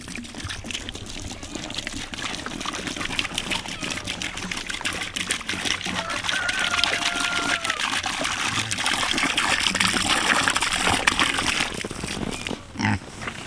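Water trickling and pouring into pigs' dishes on a snowy farm, a soft steady stream close by, with pigs grunting faintly and someone talking quietly in between.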